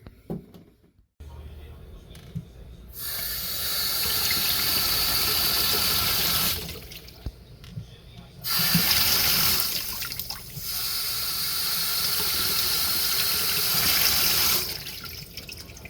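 Water pours steadily from a sink faucet fitted with a new aerator, a loud broad rushing stream that starts, stops briefly twice, then resumes, with no talking over it.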